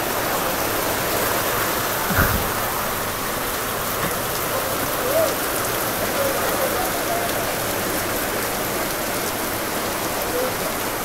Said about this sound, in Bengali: প্রচন্ড পরিমাণে বৃষ্টি নামছে